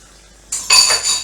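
Hot tap water gushes on suddenly while a meat cutting board is rinsed at a kitchen sink, a bright hiss with a slight surge and dip over about a second, no voices.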